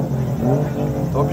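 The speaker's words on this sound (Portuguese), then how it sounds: "O barulho do motor 1J é muito top" A car with a Toyota 1J engine at a club event at Mikawa Motorland, its engine droning and revving close by throughout, with no break in the sound.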